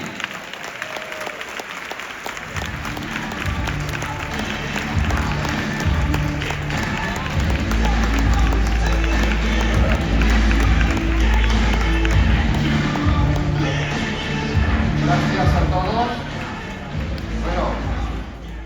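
Strong, sustained applause from a large audience at a talk by a football club doctor, dense clapping rising after a couple of seconds and holding steady, with a voice speaking over it.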